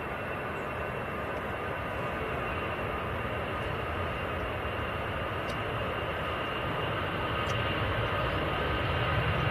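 An EasyJet airliner bound for Belfast at Manchester Airport produces a steady, moderately faint engine roar that slowly swells over nine seconds, with no voices heard.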